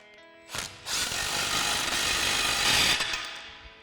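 An impact wrench with a swivel adapter and 15 socket tightens an exhaust tip clamp on a Silverado dual exhaust, running in one loud, continuous rattling burst of about two and a half seconds after a short rev-up.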